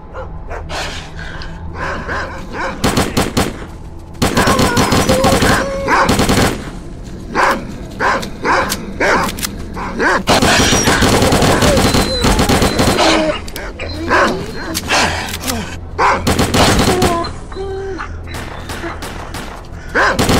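Dogs bark repeatedly amid loud bursts of automatic gunfire in the video game STALKER Clear Sky, the shots and barks alternating in dense, close clusters with brief lulls over a background of game ambience.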